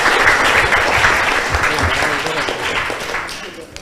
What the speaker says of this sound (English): please give both teams a big round of applause